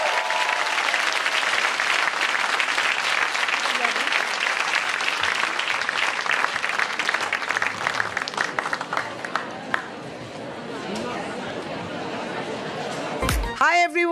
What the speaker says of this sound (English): a wonderful, loud round of applause for all our wonderful speakers